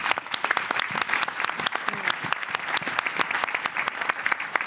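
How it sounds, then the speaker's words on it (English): An audience claps enthusiastically after a policy panel, dense and sustained applause from a crowd indoors, lasting the whole time. "We should give him all a round of applause."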